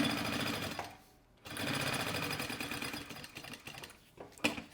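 A sewing machine runs in bursts as it stitches the lining corners of an anti-theft backpack, a steady close mechanical whir that pauses briefly and then resumes, with no talking.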